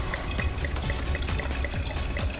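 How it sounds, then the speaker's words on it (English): Pink Moscato wine poured from a bottle into a glass, a steady liquid trickle with small splashing drips running throughout, fairly close and alone. "I'm gonna pour us a little bit here"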